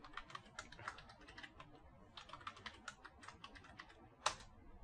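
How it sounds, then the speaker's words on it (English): Fingers tap out a root password on a computer keyboard, a quiet, close run of irregular keystrokes in two bursts, ending with one sharper press like an enter key. "So I'll just type it."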